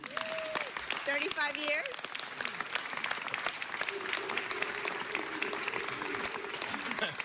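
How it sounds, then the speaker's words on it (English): Sustained applause fills a city council chamber for a deputy fire chief retiring from the Los Angeles Fire Department, steady and dense throughout, with a voice speaking over the clapping. "Let's give him a big round of applause."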